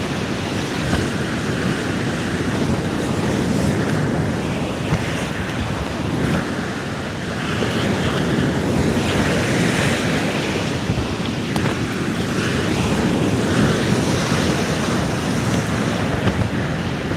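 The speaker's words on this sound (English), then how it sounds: "Such a little sea. It's making an awful lot of noise." A small sea makes a loud, continuous rush of surf against the shore, with gusty wind noise on the microphone and gentle swells in intensity over a long stretch.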